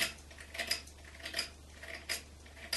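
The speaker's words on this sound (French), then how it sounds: "Vous prenez comme ça, vous bloquez un petit peu la lame, vous aiguisez." Scraping metal strokes of a blender blade being sharpened on an Easysharp Xtra sharpener, a series of short, bright rasps repeating at an uneven pace, fairly faint and close, with no voices.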